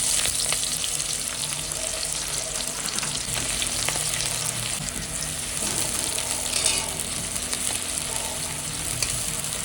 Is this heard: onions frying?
yes